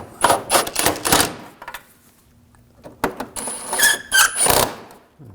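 Bolts on a rear driveshaft coupler of a 2007-2013 BMW 328i with a 3.0L inline-six being tightened with a ratcheting tool, in rapid clicking bursts with brief pauses between runs, close and loud.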